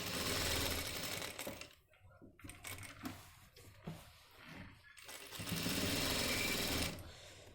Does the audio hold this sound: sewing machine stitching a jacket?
yes